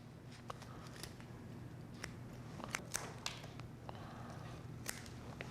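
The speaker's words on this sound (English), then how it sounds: "I'm going to cut the roots right off at the base" Scissors or shears snip the roots off the base of a garden bulb, a series of faint, sharp clicks and crisp cuts at irregular intervals over a quiet background.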